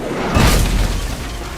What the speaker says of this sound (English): It is for me to shoot the cannon